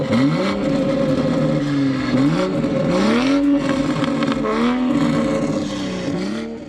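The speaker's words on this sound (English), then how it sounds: "The HKS is the perfect exhaust that is not super loud." A Toyota Supra engine revs repeatedly through an HKS exhaust, deep and throaty, pitch rising and falling in steady waves, loud and close, no voices.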